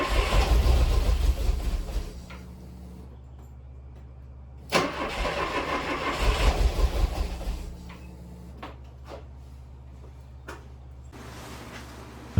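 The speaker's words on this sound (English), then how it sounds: "I could now get it to start, I just couldn't keep the car running." A barn-find early Euro-spec Porsche 924 engine cranks and catches loudly, runs briefly, then dies away; a second start attempt fires up and fades again, leaving a quiet low hum with small clicks between.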